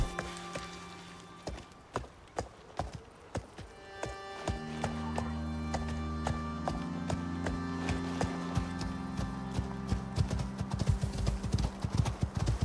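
Horse hooves clip-clop in the survival game Icarus as a tamed pack horse loaded with gear walks along, a steady rhythm of close, clear hoofbeats that quicken toward the end over a low rumbling game backdrop.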